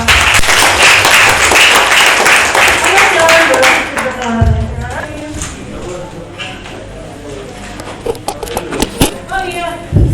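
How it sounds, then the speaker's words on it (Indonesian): Seminar attendees at a freelance designer event clap loudly for several seconds, then the applause thins and fades while a voice speaks over the dwindling claps. "Tepuk tangan untuk kita semua."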